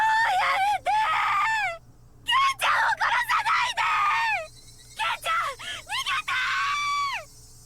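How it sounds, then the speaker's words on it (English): A voice screams repeatedly in the visual novel game Higurashi When They Cry, loud anguished wails in several bursts separated by short gaps. "Shion's screams coming from the corner of the chamber were enjoyable before"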